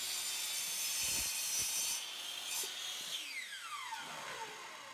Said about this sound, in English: I'm just going to cut straight through and make a straight cut.